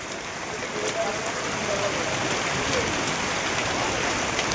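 Heavy rain pours down in a dense, unbroken hiss that stays loud and even from start to finish, with no clear talking over it.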